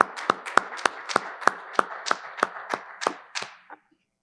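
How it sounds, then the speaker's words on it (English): Hands clapping in a conference room at the close of an IEEE VIS 2022 panel: about a dozen sharp, evenly spaced claps in a steady rhythm, close and fairly loud, trailing off after nearly four seconds. "let's get a round of applause in the room"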